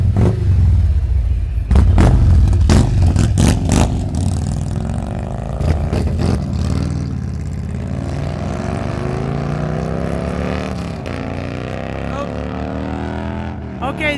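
Motorcycles rev and rumble at a Christmas morning biker gathering, with loud, close engine roar, throttle blips and a rising then falling pitch as bikes pass, plus people talking underneath.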